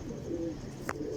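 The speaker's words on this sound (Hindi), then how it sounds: "माशाल्लाह लालकोटी कबूतर है।" A Lalkoti pigeon coos softly in a brief, low, throaty call at a rooftop pigeon-flying setting in Lahore, with faint background noise and a short sharp chirp near the end.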